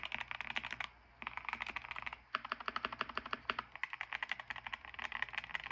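Fast, steady typing on a Keychron Q1 HE keyboard, crisp close keystrokes in quick bursts with two brief pauses, no voices.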